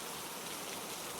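Steady rain falls at night in a jungle, a dense, even hiss of drops on leaves and ground that stays constant and close for the whole stretch, with no voices.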